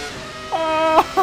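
A Williams FW19 Formula 1 car modded into Assetto Corsa, its engine note climbing in a steady harmonic whine, then dipping and rising again in short bursts as the revs change, loud and close with no talk.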